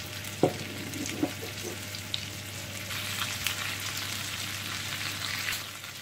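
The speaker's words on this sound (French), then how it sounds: "Je vais ajouter un peu d'ail écrasé." Crushed garlic frying in a pan alongside potatoes for a roast beef dinner, a steady close sizzle with a few sharp clinks early on and a brighter hiss swelling partway through.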